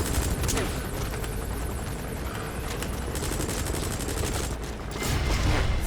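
Enemy gunfire in Metal Gear Solid 5: The Phantom Pain, dense rapid bursts of automatic fire raking a position, with a helicopter-like drone in the background, continuous and loud throughout.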